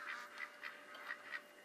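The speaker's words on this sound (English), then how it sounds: "Those ducks are loud." Ducks quacking repeatedly in a steady series of loud, close calls, about seven quacks in under two seconds, with no talking.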